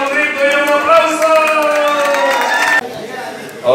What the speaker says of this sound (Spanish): Ella es el público, le da un grito y un aplauso.